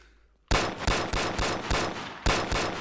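Gunfire in the VR game Bonelab: after a brief quiet, a gun fires a rapid, loud burst of evenly spaced close shots, about eight in under two and a half seconds.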